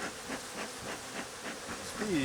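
Honeybees swarm around a beekeeper working an aggressive hive, a steady dense buzz with wingbeats sweeping past close by, no voices over it.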